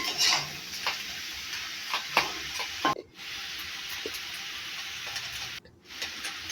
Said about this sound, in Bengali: জিরে কাঁচা লঙ্কা আর পেঁয়াজ দিয়ে এবার এই দেখো কষিয়ে নিচ্ছি